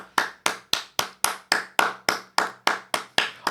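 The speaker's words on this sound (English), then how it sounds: "All right, clap, keep clapping." Steady hand clapping, about a dozen sharp claps in an even rhythm, close and fairly loud with no other sounds, for an applause meter.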